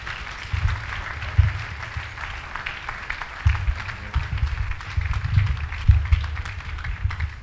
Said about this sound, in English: Can we clap better than this?